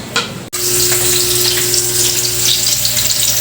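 Onion and garlic for Visayan-style igado drop into hot oil with a sharp hit, then break into a loud, continuous close sizzle that holds steady to the end.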